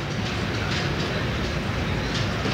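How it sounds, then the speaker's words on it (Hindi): A train hauled by a GU40 locomotive runs on the down track on Pakistan Railways, a loud, continuous rolling rumble with rattling wheels close by and no pause throughout. "सामने से एक और ट्रेन आ रही है डाउन ट्रैक पे।"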